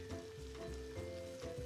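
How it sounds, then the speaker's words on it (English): Onions being caramelized in a pan over a campfire sizzle with a steady, close crackle that holds level throughout, with a faint low hum beneath and no talking. "we'll just keep tossing onions in here"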